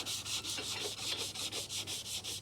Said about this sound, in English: Got a little bit of 1500 paper and some water.